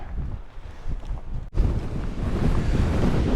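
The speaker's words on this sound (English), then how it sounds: "As you can tell, it's quite a bit windy" Strong wind blasts across an exposed fell top, roaring loudly against the microphone and growing heavier after a brief dip, a continuous buffeting rush with no voices.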